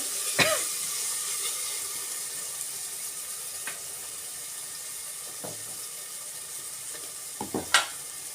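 Spinach rice curry (palakura rice) frying in a pan gives a faint, steady sizzle, broken by a few brief clinks and stirring knocks near the start and end.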